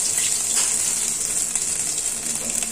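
A dry red chili and chopped ginger sizzling in a hot wok, a loud, steady bright hiss of frying that continues without pause.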